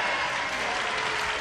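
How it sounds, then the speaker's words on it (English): A studio audience claps steadily as a dense wash of applause, fairly loud and even throughout with no talking over it. "Why do they applaud?"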